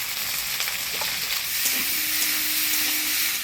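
Potatoes and vegetable stalks are turned in spice-tempered oil for a katla fish curry, a dense, steady frying sizzle up close with soft stirring scrapes throughout, no talking.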